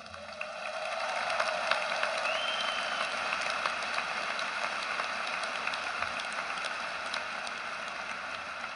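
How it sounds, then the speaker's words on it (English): A large commencement audience applauds steadily without pause, the clapping merged into a dense, even, rain-like wash that sounds distant and moderately loud. "Let's give them all a round of applause."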